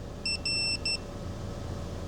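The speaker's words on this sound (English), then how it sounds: "show you what is in the car with the number of beeps" A Foxwell NT201 OBD2 code reader beeps three times in quick succession while running a test, the clear electronic tones sounding close above a low background hum.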